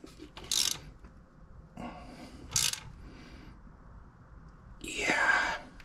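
Ratchet wrench clicking as a bolt is torqued during an LS engine swap into a 1999 Pontiac Firebird, heard as several short bursts of ratcheting spaced a couple of seconds apart, with a longer final pull and quiet background speech.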